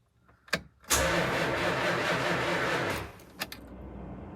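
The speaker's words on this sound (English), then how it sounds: "All right, so we've cranked it." A 1964 Imperial Crown with a weak battery cranks up close after a fuel pump replacement, with short clicks, then a steady, laboring churn of the starter for about two seconds that stops, followed by a few clicks.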